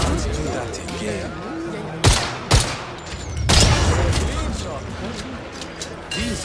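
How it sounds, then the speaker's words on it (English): Gunfire in the video game 007 First Light, a few sharp loud shots in quick succession near the middle over a busy background of game sound, with a brief echoing pause between them. "These are just warm-up shots, right?"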